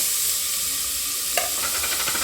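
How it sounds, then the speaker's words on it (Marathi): Chopped onion hitting hot oil in a pot, a loud steady sizzle throughout with a brief scrape or clink partway through, close and without talk. "पातेला तेल टाकून घेत आहे आता हा मी कांदा टाकून घेते सगळा"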